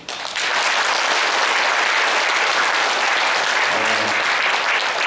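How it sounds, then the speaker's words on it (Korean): A crowd at a hometown association's New Year gathering and general meeting bursts into dense, loud applause welcoming a newly elected president, starting abruptly and sustaining evenly, with a brief voice audible underneath. "박수로 한번 맞이해"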